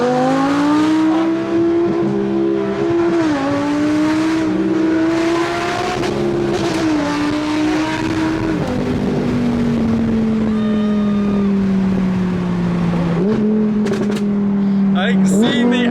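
An Audi R8 V10 Plus and a McLaren 675LT driven hard, a loud close engine drone rising and falling through gear changes for the whole stretch, with sharp pops near the end.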